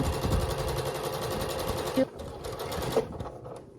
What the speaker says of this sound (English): I'm gonna sew 1/4 of an inch all the way down, and I'm holding this firmly at each seam.